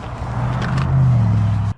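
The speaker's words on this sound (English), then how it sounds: "I can hear the highway." Steady highway traffic roar on a cold evening, with a low engine hum swelling as a vehicle passes nearby, cutting off abruptly at the end.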